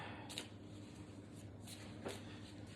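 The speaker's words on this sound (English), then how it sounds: "I don't like to shuffle the cards too crazy" Tarot cards being shuffled on a narrow table, with soft papery riffles and slides in a few short bursts against a quiet room hum, fairly close and faint, no talking.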